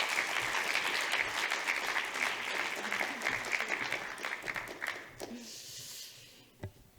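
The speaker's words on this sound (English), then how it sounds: "Let's please welcome Professor Helen Ray with a big applause." An audience applauds to welcome a professor to the lectern, sustained crowd clapping that gradually thins and fades out, followed by a few isolated sounds near the end.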